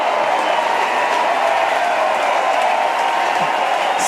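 A large crowd cheers and applauds at an ultimate frisbee open final between San Francisco Revolver and Seattle Sockeye, loud and steady throughout with no break.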